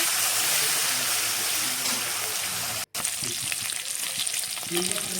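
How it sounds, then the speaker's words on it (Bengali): Butter fish rubbed with turmeric and salt sizzles loudly in hot oil, a steady crackling hiss with a brief break partway through and faint stirring afterward. "তেল গরম হয়ে গেছে, মাছগুলো ভাজা করে নিব"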